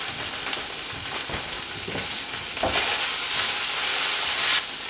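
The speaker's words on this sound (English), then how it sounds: "sift in the same amount of flour and stir that till you get a thick paste" Butter and flour roux stirred in a hot pan, a steady frying sizzle and hiss with scraping spoon strokes across the pan, close and continuous, no voices.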